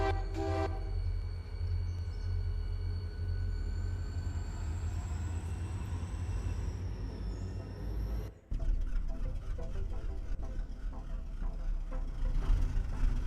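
A train in the RailRoader game rumbles along steadily with a low, continuous rolling drone, a brief tonal whistle early on and a sudden shift midway as the sound changes.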